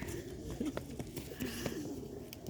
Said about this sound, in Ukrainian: Вон скільки їх тут співаків. Голубячих така красота у нас сьогодні.